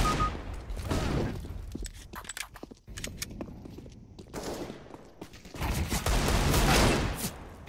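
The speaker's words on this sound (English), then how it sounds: "He keeps moving while shooting the Deagle." Desert Eagle pistol fire in CS:GO: several sharp, loud shots come in uneven bursts, with metallic clicks and movement noise between them.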